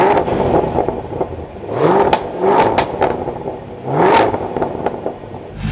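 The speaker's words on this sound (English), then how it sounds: "Let's fire this back up, take a listen to that V8." A 2024 Chevrolet Camaro ZL1's V8 engine barks and revs, with two loud rising throttle blips a couple of seconds apart over a steady rumbling idle, heard close up with no talking.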